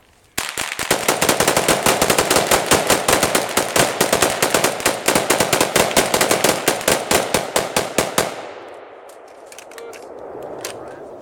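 Rapid bursts of gunfire from four guns firing together in a volley, a dense, continuous rattle of loud shots for about eight seconds before cutting off to quiet outdoor ambience.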